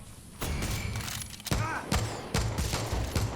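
Sniper rifle fire in Far Cry 6, several sharp, loud separate reports spaced about half a second apart over game ambience.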